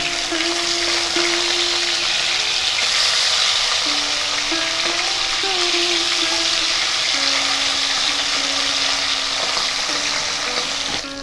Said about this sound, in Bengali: মাছগুলো ছেড়ে দিচ্ছি ভাজার জন্য।